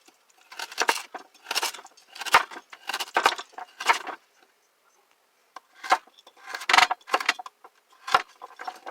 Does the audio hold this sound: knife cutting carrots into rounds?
yes